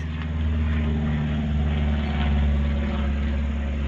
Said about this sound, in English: Got the government spying us with their airplanes